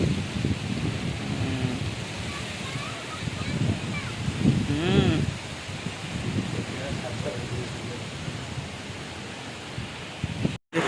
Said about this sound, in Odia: ବର୍ଷା କେମିତି ହଉଛି, ପବନ କେତେ ଜୋରରେ ହଉଛି ଆଉ ବିଜୁଳି ମାରୁଛି ବି ଜୋରରେ।